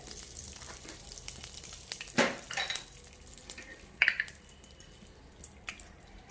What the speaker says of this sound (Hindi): तेल अच्छे से गर्म हो गया गाइस, हम हींग डालेंगे।